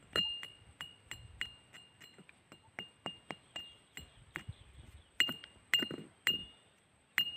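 Hard steel from a rusty Ford tractor bearing, buried two decades, struck repeatedly, giving bright metallic clinks with a ringing high tone, about a dozen and a half irregular taps, close and otherwise quiet.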